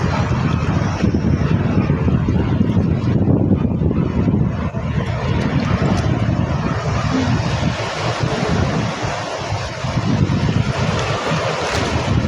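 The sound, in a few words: camera drone flying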